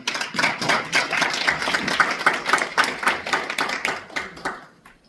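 At a Korean dental association event, a room of attendees breaks into clapping, crisp individual claps close by and moderately loud, holding a lively pace before tapering off into quiet at the end.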